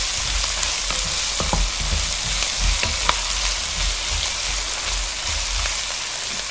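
Chicken curry ingredients frying in a pan, a loud close steady sizzle and crackle with occasional sharper spits and faint stirring, no voices.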